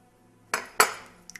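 New dishes clink together twice in quick succession, two bright, sharp ceramic knocks in a quiet room, followed by a faint tap.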